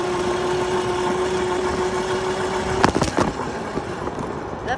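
An electric scooter runs at full speed, about 15 mph, with a steady mid-pitched motor hum and a sustained tone, broken near the end by a few sharp knocks and rattles from bumps.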